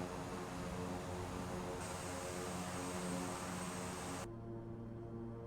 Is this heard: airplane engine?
yes